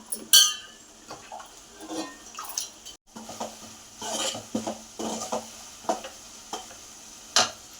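Spices and turmeric are sautéed in a pan for fish curry. Soft sizzling runs under intermittent scrapes and clinks of a spoon stirring against the pan, close and fairly quiet.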